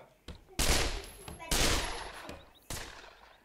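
Gunfire in a VR shooter game cracks out in four sharp, loud blasts at uneven intervals, each one decaying into a short tail, with quieter handling noises between shots.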